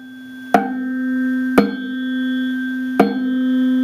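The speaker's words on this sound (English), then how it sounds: "The frequency of this tuning fork is 256 hertz." A 256 hertz tuning fork struck three times, each strike a sharp tap followed by a steady, pure ringing tone that sustains between hits; close and clear, with no talking.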